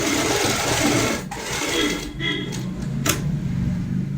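A sewing machine runs long basting stitches along a pillow cover in steady close bursts, with brief pauses between runs.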